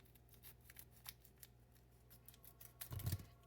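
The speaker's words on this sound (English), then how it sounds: "We're gonna go ahead and grab the scissors." Scissors snip open a cheese package in a home kitchen, a series of faint, crisp clicks and plastic rustles spread across the stretch, ending in a louder crinkling burst close to the mic.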